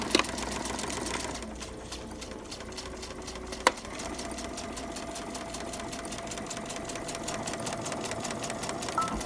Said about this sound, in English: so now we're at the sewing machine